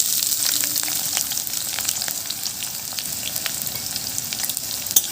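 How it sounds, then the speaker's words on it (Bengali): Chopped onions fry in hot oil with a continuous close sizzle and crackle, lively pops scattered through it, for about five seconds. "পেঁয়াজটা দিয়ে একটু ভালো করে ভেজে নেব।"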